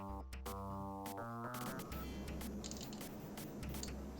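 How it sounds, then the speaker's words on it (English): A plastic water bottle is handled up close, giving crinkly squishing and crackling that swells after a short stretch of music and continues steadily over a background tone. "It's time for another bottle of water."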